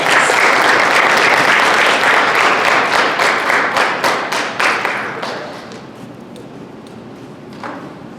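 An audience at a talk on Muslims' mental health gives a round of applause, loud sustained clapping from a crowd that thins and fades out over several seconds, leaving quiet room tone with a faint tap near the end.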